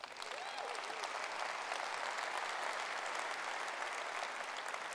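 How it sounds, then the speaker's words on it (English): Sustained audience applause fills a large keynote hall at a tech conference, steady and dense from start to finish with no voices over it. "I wish you'd give them all a round of applause."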